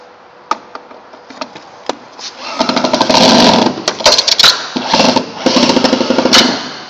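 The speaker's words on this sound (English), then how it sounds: "My drill, I put the socket, put my drill up top." Power drill with a socket driving bolts during a marine boat accessory installation: a few short clicks and taps at first, then loud, close bursts of whirring drill that stop and start repeatedly.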